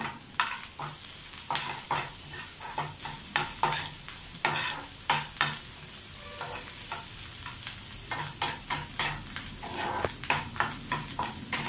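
Curry leaves and onions fry in a pan for paneer 65, with a steady close sizzle broken by repeated spatula scrapes and stirring clatter across the whole stretch, and no voices.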